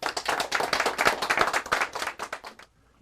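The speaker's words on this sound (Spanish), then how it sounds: "les voy a pedir que recibamos con un fuerte aplauso" A smallish audience claps to welcome a presenter at an entrepreneurs' gallery, rapid distinct claps fairly close by that taper and stop abruptly just before the end, leaving near silence.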